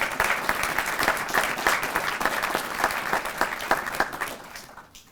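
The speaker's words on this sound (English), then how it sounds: "So give Gregory a round of applause as well." An audience at a police promotions and swearing-in ceremony claps in steady, lively applause that fades out at the very end.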